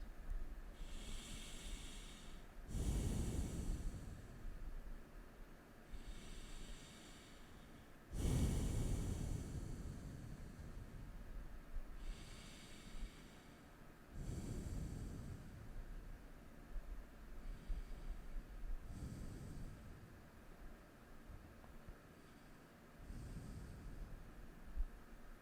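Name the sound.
deep yoga breathing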